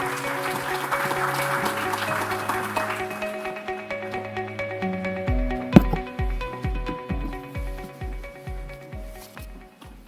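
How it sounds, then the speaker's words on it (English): Audience applause at a Portuguese engineers' association session lasts for the first few seconds, then fades away as tonal music takes over. "Let's please give a warm round of applause to Engineer Fernando de Almeida Santos"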